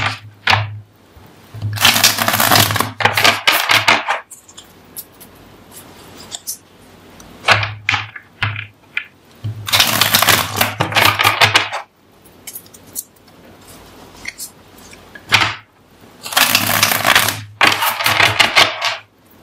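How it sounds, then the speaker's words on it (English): Cards riffle and snap in repeated close bursts, several rounds of shuffling separated by short quiet gaps and softer handling sounds. "Three more shuffles."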